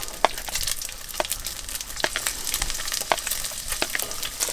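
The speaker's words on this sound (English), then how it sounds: "So we're putting the lapjung in first, fry those up, get the edges nice and crispy." Lap cheong, dried Chinese pork sausage, fries in a pan for fried rice, giving a close, dense, continuous sizzle and crackle broken by sharp spits and light scrapes of stirring.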